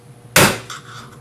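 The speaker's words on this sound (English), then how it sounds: "You can give it a couple smacks of the hammer." A hammer sharply strikes a trailer wheel bearing being knocked out of its hub, one loud metallic smack followed by a fainter second tap, close by and without talk.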